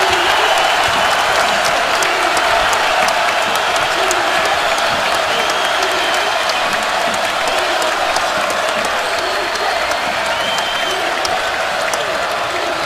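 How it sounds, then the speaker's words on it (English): A basketball arena crowd during a Maryland vs Iowa college game cheers and applauds in a loud, sustained roar with dense clapping, while a commentator's voice runs underneath. "Here comes the crowd again."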